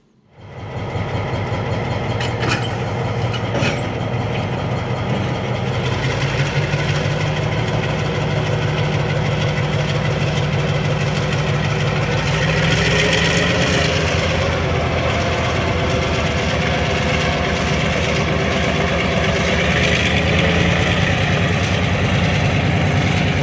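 A Union Pacific locomotive idles nearby in Watsonville, California, a loud, steady low diesel rumble that holds for the whole stretch, rising slightly partway through, with no voices.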